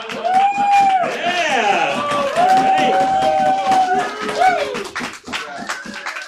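Applause from a crowd fills the room, dense and continuous, with a voice calling out over the clapping.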